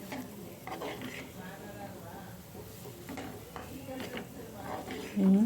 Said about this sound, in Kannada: ಇನ್ನೊಂದು ಸ್ವಲ್ಪ ನಾನು ಇಲ್ಲಿ ತುಪ್ಪನ ಹಾಕ್ಕೊಂಡು ಮಿಕ್ಸ್ ಮಾಡ್ಕೊತಾ ಇದ್ದೀನಿ